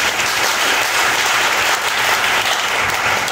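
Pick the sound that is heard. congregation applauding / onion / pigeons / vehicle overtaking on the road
congregation applauding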